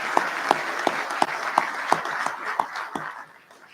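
An audience at a military change of command ceremony claps for families, a handful of distinct, slightly echoing claps at a steady rhythm in a large room, thinning out and fading at the end.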